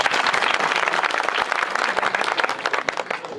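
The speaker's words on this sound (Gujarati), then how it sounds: "બધા જ માટે એકવાર આપણે તાળીઓ પાડી લઈએ" Village gathering audience of elders, youths, mothers and children clapping together at a Gujarati election rally, a dense, steady burst of applause with sharp individual claps standing out, close and loud throughout.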